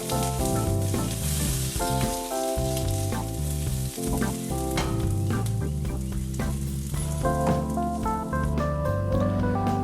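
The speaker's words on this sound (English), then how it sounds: "We're going to keep flipping the potatoes until they're a nice golden brown color on both sides" Potatoes fry in a pan for veggie burgers, giving a continuous loud sizzle with crackling pops and the occasional scrape of flipping, close and steady throughout with no voices.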